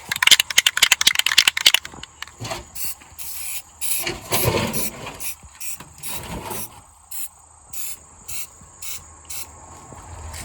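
Black protective enamel hisses from an aerosol spray can on a 1993 Suburban, first as a long burst and then as a string of short, evenly spaced bursts. The spraying is close, with some rubbing and handling noises and no talk.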